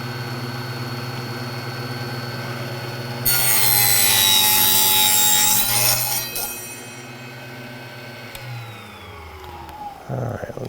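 Cutting small wood pieces for a 1/24 scale model, a short burst of rasping sawing for a few seconds amid a steady background hum, then a few faint clicks.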